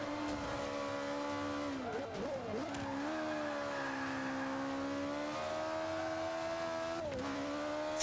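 A battered race car in a video game, slamming into walls, revs its engine in a steady droning whine with pitch dips and brief tire squeals partway through, continuous and fairly loud.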